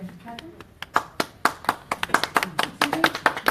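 Scattered clapping from a group at a public city meeting, sharp uneven hand claps that come faster and build over a few seconds, with talking underneath.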